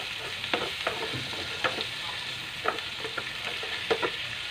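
Minced garlic stirred in a hot pan while cooking pork steak, a steady close sizzle broken by about six sharp scraping stirs at fairly even intervals, with no voices.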